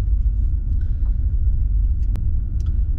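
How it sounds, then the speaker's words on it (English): 2014 Mercedes-Benz S63 AMG pulling away, heard as a steady low engine rumble from inside the cabin with a couple of faint clicks and no talking. "I'm just gonna go for a little drive in the S63"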